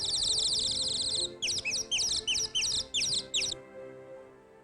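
A nightingale sings in a 1962 British comedy film, giving a sustained high warble and then a run of six quick repeated chirping phrases, clear and close over a low background hum.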